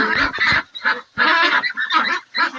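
Loud, close honking quacks from several ducks at a duck hatchery in Sreepur, Gazipur, coming in quick overlapping bursts with short pauses between.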